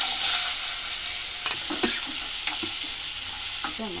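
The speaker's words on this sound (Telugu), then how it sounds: "ఇప్పుడు పల్లీలు వేస్తున్నాను క్యాప్సికమ్ ముక్కలు వేస్తున్నాను" Peanuts and capsicum pieces fry in hot oil for a Telugu capsicum chutney, a loud continuous sizzle close by with scattered scraping knocks from stirring.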